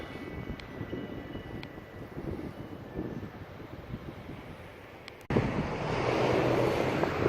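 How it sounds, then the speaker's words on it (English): Flood water rolls steadily over the ground past a fence in Magoffin County, Kentucky, a continuous rushing wash with wind buffeting the microphone, which jumps louder and fuller near the end. "But you can see the water still rolling over here."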